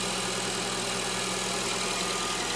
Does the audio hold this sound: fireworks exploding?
no